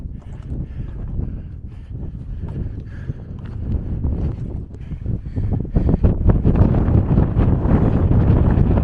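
Strong wind on the summit of El Teide volcano, Tenerife, roars and buffets the microphone in deep, gusting rumbles that grow louder toward the end.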